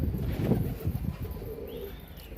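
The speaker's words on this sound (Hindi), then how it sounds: "एक ये कबूतर है" A Kabli pigeon gives low, soft coos nearby against a quiet background murmur.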